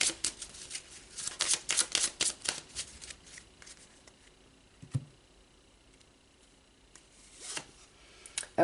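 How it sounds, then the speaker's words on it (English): Fortune cards shuffled by hand in quick, papery riffling bursts, dense for the first few seconds, then a quiet stretch with a lone tap before another short flurry near the end. Close and fairly soft, with no talking. "So let's just pull a fortune card."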